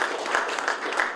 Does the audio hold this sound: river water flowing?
no